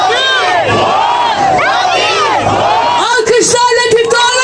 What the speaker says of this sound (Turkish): Çığlık kıyamet ama